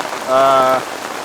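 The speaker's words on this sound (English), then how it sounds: "now it's raining and hailing pretty good, so we're going to stay under cover" Rain and hail fall at the Overland Expo West 2023 outdoor event, a loud, dense patter on a nearby surface, briefly joined by a droning tonal hum that swells and fades.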